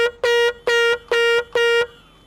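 Vehicle horn in the farming game Farming Simulator 25, honking four times in a steady rhythm of short, even blasts, loud and close with no talk over it.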